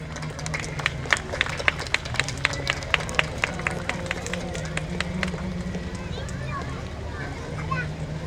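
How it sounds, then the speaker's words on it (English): A school annual day prize distribution audience applauds a prize winner, with steady crowd clapping and scattered sharp claps under an amplified speaker talking. "let's give her another big round of applause"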